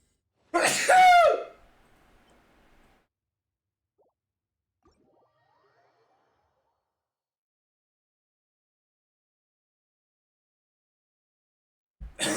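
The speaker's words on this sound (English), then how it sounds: "I'm gonna sneeze." A single loud, close sneeze bursts out alone near the start, then near silence follows, with a faint bump of sound at the very end.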